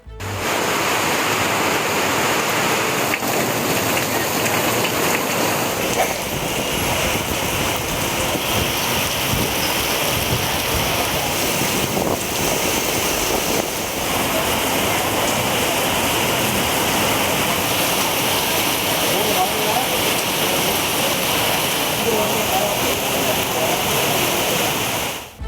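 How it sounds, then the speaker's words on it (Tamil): Heavy rain pours across Tamil Nadu, a dense, loud and unbroken hiss of falling water that holds at the same level throughout. "தமிழகத்தின் பல்வேறு பகுதிகளிலும் பரவலாக கனமழை பெய்தது."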